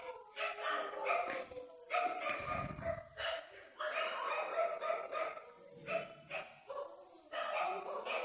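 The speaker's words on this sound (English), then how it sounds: "I don't know if you can hear the dog's noises" A dog barks, yips and whimpers repeatedly indoors, in bursts of several sharp calls with short gaps, moderately close, mixed with a person talking over it.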